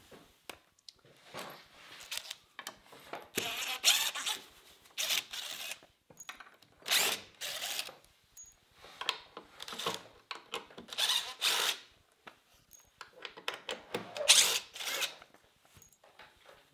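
A power drill works at stubborn concrete screws while a new workshop is set up, giving several short, close whirring bursts separated by quiet pauses.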